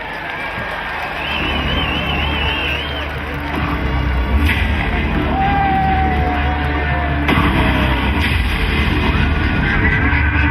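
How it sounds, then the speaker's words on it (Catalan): Large carnival gala crowd in Vinaròs cheering, yelling and whooping for a children's carnival queen, a loud sustained roar of voices filling the whole stretch with scattered shouts rising above it. "Un fort aplaudiment"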